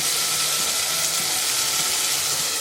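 Soft, steady sizzle and bubbling of tomatoes simmering with water in a covered pan, close and continuous with no talk.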